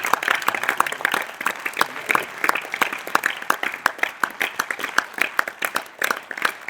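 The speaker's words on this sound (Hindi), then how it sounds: "जोरदार तालियों से इनका स्वागत करें" Lively, brisk applause from an audience welcoming a guest onto the stage, with many sharp individual claps clearly audible as a steady, fairly close clatter throughout.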